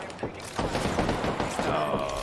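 Shotgun blasts in a video game, a quick run of close, punchy shots with thumping low impacts, partly under a voice.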